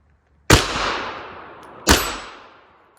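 Two loud gunshots from a .22 Magnum firearm fired outdoors, about a second and a half apart, each a sharp crack with a long decaying echo.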